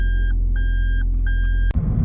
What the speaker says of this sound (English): when you put them in reverse, you sound like you're a lorry reversing.